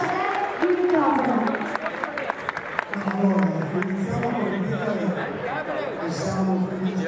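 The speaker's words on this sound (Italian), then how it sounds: "Fatevi un applauso perché siete stati voi grandi quest'oggi" An audience applauds at a cheque-presentation event held by Banca di Caraglio, a steady crackle of clapping with crowd chatter and someone speaking over it.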